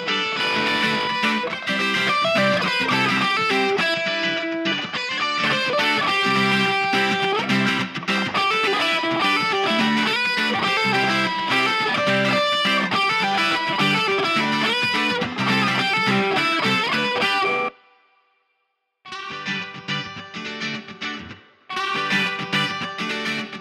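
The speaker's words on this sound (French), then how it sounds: "je pourrais faire de la distorsion parallèle sur mes pistes de guitare" Distorted electric guitar tracks with parallel distortion in a Studio One mix play dense and loud, continuing with other instruments, then briefly drop out and return in choppy sections near the end.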